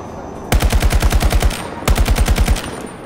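Two rapid bursts of machine gun fire in a Battlefield video game, loud and close, each a string of about eight sharp evenly spaced shots separated by a short pause.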